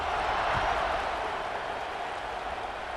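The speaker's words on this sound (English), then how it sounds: "this crowd is buzzing after that last score" Stadium crowd at a college football game buzzing after a score, a steady broad roar of many voices held at an even level throughout, distant and diffuse with no single voice standing out.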